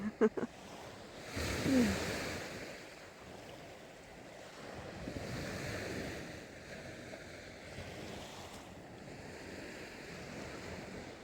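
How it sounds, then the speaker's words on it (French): Ocean waves wash onto the shore on a spring evening, soft swells rising and receding every few seconds, faint and distant under light wind. "t'écoutes les vagues"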